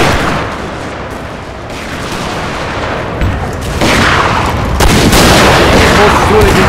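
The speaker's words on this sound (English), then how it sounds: "Confederates firing the flanks of the Union troops there." Confederate musket fire rolls along the Union flanks in a Total War recreation of the 1864 Battle of Franklin, a dense continuous crackle of gunfire with dull booms that swells louder toward the end, with no clear voices.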